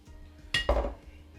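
A metal sheet pan is set down and handled on a kitchen counter during sourdough baking, giving two close, sharp metallic clanks in quick succession that ring briefly before fading into quiet room tone.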